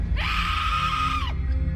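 A woman's scream sound effect: a single sustained, high, shrill cry lasting about a second that cuts off sharply, loud and close over a low rumbling background.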